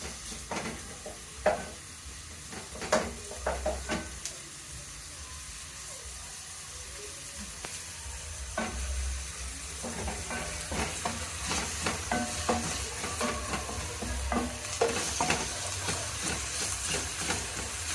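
Onions sizzling in oil in a pan for a chicken stew, a steady frying hiss broken by repeated scraping and clinking strokes of a spoon stirring, close and continuous.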